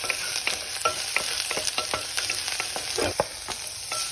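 Onion and garlic sauté for Bicol Express, a steady close sizzle broken by repeated scraping stirs in the pan, with no speech.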